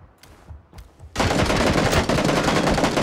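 Gunfire in the battle game PUBG, a few faint single shots followed by a sudden loud sustained burst of rapid automatic fire lasting about two seconds.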